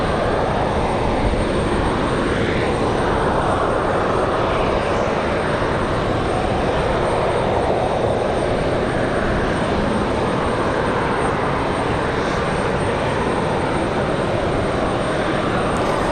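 Airliner with its APU running during pushback at Raleigh Durham International Airport on a windy day, a loud, dense, continuous roar and whine filling the scene without pause, no talking.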